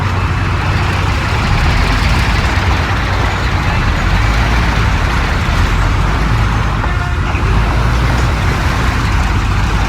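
Car driving through city streets in the Mafia (2002) video game, with a steady, loud engine and road rumble over dense traffic noise throughout.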